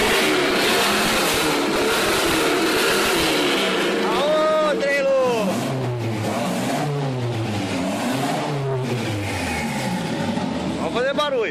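Volkswagen Voyage with carburettors and a clogged manifold, its engine revved repeatedly in loud rising and falling sweeps close by, each burst climbing then dropping back to idle.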